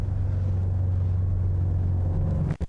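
A drift car's engine holds steady throttle in first gear, a loud, constant low drone and rumble running unbroken before a brief dip at the end.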